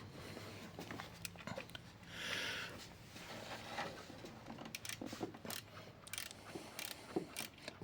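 A wrench tightens the screws on the chain tensioner of a Mercedes A-Class W169, with faint, quiet ratcheting clicks and scrapes of metal tools amid soft rustling in a workshop.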